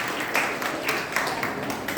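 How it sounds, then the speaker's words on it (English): An audience at a workshop claps in a steady, moderately loud burst of applause, a continuous patter of many hands with slight swells. "Please clap for them."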